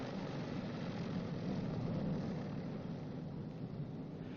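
Steady low rumble of B-29 bomber piston engines idling at 700 RPM on the ground during a magneto check, a continuous droning hum with no voices.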